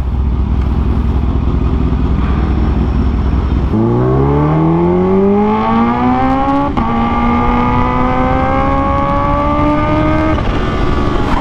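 Supercharged 2023 Kawasaki H2 Carbon motorcycle engine in morning road traffic, its pitch climbing steadily in a long, loud acceleration through the gears, with the roar of the engine and road noise filling the scene and no talk.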